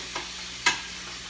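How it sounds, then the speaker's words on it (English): A spoon stirring mushrooms in a pan on a stove with the heat just turned off gives two brief scraping swishes, a faint one then a louder one, over a quiet low hiss. "Let's stir those mushrooms up."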